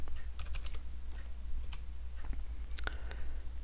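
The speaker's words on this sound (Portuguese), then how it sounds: "Eu quero digitar o nome do dono" Quick bursts of keystrokes on a computer keyboard as a name is entered, light irregular clicks close by over a low steady hum, no voices.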